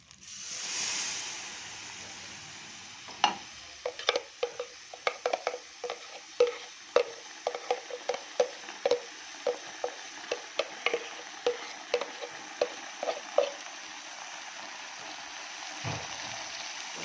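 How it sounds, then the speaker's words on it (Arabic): A spoon stirs thick tomato-and-garlic pasta sauce in a pot, making a steady run of close, rhythmic knocks and scrapes against the metal that fades out near the end. "نقلب ده كله مع بعضه."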